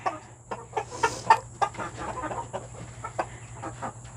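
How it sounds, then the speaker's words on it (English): Young Silkie hens in a backyard coop cluck in short, repeated soft bursts, one after another, close by over a low steady hum. "my little gray hen, she's just hopping around"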